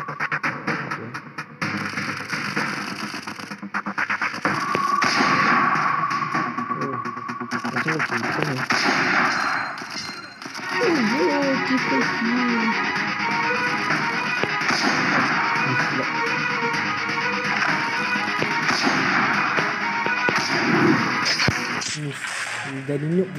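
Gunfire in a mobile shooting video game comes in repeated crackling bursts and single shots over a busy game soundtrack, with a person talking throughout.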